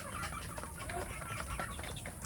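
Free-range village hens clucking in the morning, several birds producing soft, irregular clucks and calls at a moderate distance over low farmyard background.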